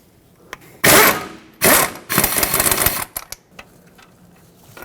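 A tool works loose the 17mm brake caliper bracket bolts on the front knuckle of a 2006-2010 Hyundai Sonata, heard as loud mechanical ratcheting bursts up close, separated by brief pauses and followed by a few small clicks.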